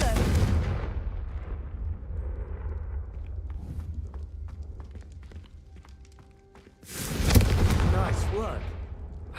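Confringo fire spell blasts in the wizarding video game Hogwarts Legacy, a loud burst of crackling impacts near the start and another sharp, heavy explosion late in the clip, with rumbling effects between.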